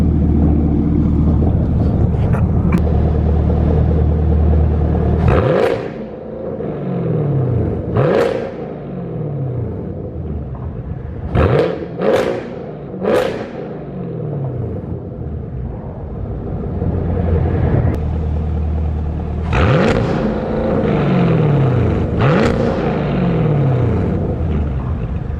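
A 2023 Chevrolet Camaro SS V8 with the muffler and secondary catalytic converter deleted idles with a deep rumble, then blips the throttle in several sharp, loud revs that rise and fall.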